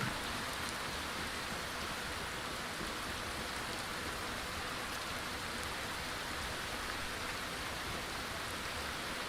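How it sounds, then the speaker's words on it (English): Steady, even rainfall in Skyrim hisses throughout without a break, soft and constant, like rain pattering on a surface with no voices. "I can still hear the rain, but I don't see the rain"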